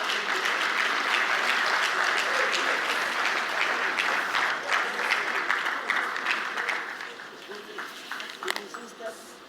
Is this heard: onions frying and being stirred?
no